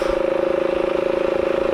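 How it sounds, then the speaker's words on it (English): A motorcycle engine drones steadily at close range while climbing uphill on a forest trail in Slovenia, its rapid pulsing exhaust note holding an even pitch throughout. "Luckily, I'm on a motorcycle"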